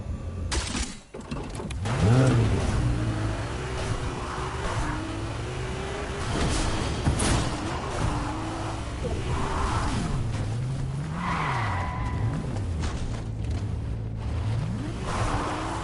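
Ferrari engine in a video game, revving up and down in sweeping pitch glides with tyre skids and whooshes, loud and close over continuous game noise.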